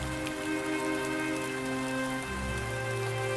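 Heavy rain pours down steadily in a village, a dense, continuous wash of drops on surfaces with a deeper drumming swell toward the end, with no voices.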